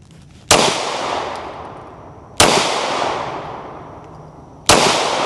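Three sharp firearm shots ring out at a training range, spaced about two seconds apart, each loud crack followed by a long decaying echo.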